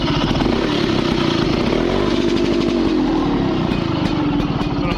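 Old car engine running after being cleaned, a loud, steady, close rumbling idle with no breaks.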